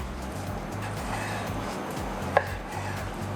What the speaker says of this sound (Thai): จากนั้นเราก็จะนำเนื้อสเต็กมาหั่นเป็นชิ้นพอดีค ำเพื่อจัดเสิร์ฟนะคะ